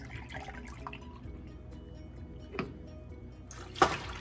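Milk is poured into a pan while making homemade rasmalai with bread, a quiet liquid trickle with faint drips and a sharper clink near the end.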